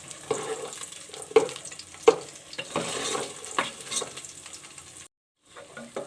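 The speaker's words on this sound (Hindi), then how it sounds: "हल्की आंच पे हम इसे हल्के से फ्राई करेंगे" Fox nuts (makhana) frying gently in ghee over low heat, a soft steady sizzle with repeated stirring scrapes and small clatters, brief pause near the end, no talking.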